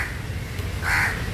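A single crow caws once outdoors, a short harsh call rising over steady background noise at moderate distance, with no talking.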